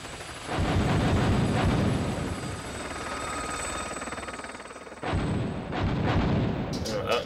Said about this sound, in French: Magnifique effet d'explosion, hein. Une très belle maquette qui a explosé en fait.